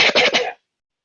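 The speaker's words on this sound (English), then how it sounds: "If I do a little cough here" A person gives a short cough, two or three quick, close bursts lasting about half a second, then silence.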